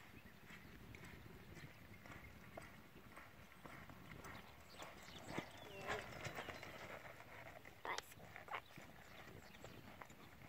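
Horse hooves clip-clopping in a steady walking rhythm, fairly close but soft, with people talking over them and a few sharper knocks partway through.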